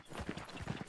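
Horse and buggy hooves in the Hunt: Showdown video game, a quick run of rhythmic clip-clop beats at moderate level, steady and fairly close, with no talk over them.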